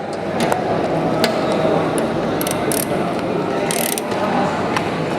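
Rapid ratchet and pawl clicking as a bolt is tightened in a heavy-equipment workshop, with dense repeated mechanical clicks running steadily throughout at close range, fairly loud.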